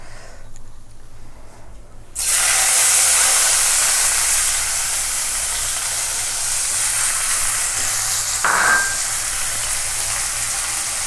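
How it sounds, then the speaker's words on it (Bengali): Onions frying in hot oil for a Bengali katla fish curry, a loud steady sizzle that bursts in suddenly after a quiet start and keeps hissing, with a brief stirring clatter near the end. "এইবারে আমরা একটু পেঁয়াজটা ফোড়ন দেব।"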